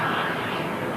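A Russian Myasishchev M55 Geophysica high-altitude spy plane at the Farnborough air show gives a steady, loud broadband engine roar that holds evenly for about a second with no break.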